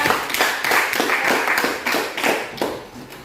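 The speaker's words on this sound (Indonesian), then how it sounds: "beri tepuk tangan buat" A class claps hands together in a classroom during a mathematics lesson on matrices, a brisk burst of fairly close, uneven claps running for a few seconds without speech.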